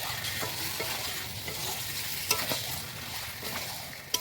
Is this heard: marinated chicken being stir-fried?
yes